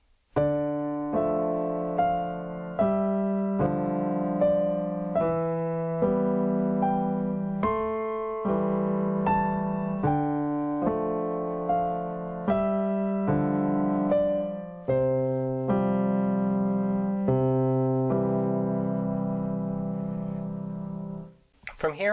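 The full piano piece is played alone, with a steady run of struck notes and chords that ring over about twenty seconds and end on a held note, and no talking.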